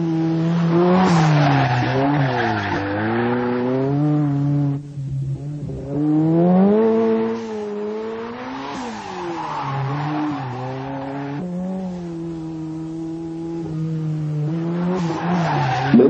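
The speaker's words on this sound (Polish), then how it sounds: "tylne koła zaczynają wchodzić w poślizg w prawym zakręcie" A car's rear tyres squeal and skid through a right-hand turn during fast-driving instruction, with long wavering screeches over a steady engine drone, loud and close, repeating across the corner with no talk.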